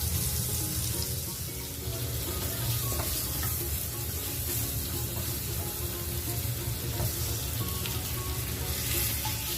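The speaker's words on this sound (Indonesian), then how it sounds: "Lalu kita masukkan potongan bawang bombaynya, kita tumis-tumis sampai dia warnanya nanti golden brown atau kecoklatan" Sliced onions sautéing in a frying pan, a continuous bright sizzle with occasional stirring scrapes and small pops, close and steady throughout.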